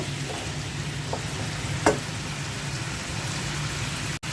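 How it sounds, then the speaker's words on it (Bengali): Pabda fish fry in oil in a pan with a soft, even, close sizzle, broken by a few light pops and one sharp crackle. "পাবদা মাছ ভেজে নিচ্ছি"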